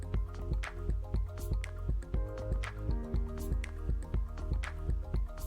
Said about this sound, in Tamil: அதாவது இந்த பபுள்ஸோட சத்தம் கொஞ்சம் சலசலன்னு கேட்டுகிட்டே இருக்கும்.